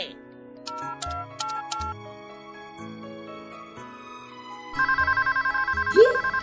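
An incoming-call ringtone on a phone sounds in a home as a melodic electronic tune, then switches to a faster repeating chime pattern near the end, fairly loud and with no talk over it.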